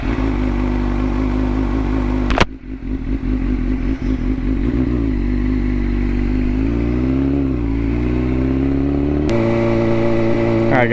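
A 600 or 300 motorcycle being ridden, engine droning steadily and loud with a rising and falling pitch as it shifts, plus a brief clatter near the start and another near the end.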